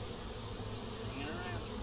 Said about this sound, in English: The bees are pouring out of this.